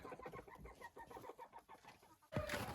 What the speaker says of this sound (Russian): вот это мой любимый петушок